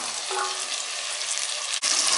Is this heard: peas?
yes